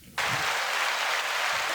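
A small group bursts into applause, with clapping starting suddenly and continuing steadily and loudly to the end.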